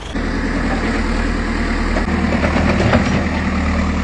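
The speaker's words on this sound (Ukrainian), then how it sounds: "Це трактор." A tractor engine idles loudly and steadily up close, a deep continuous rumble with a faint rhythmic chug.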